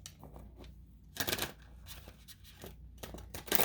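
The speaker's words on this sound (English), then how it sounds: "I just like to shuffle a little bit on camera" A Witch's Wisdom tarot deck being shuffled by hand, soft papery riffles and slides coming in quick bursts, close and quiet, with no talking.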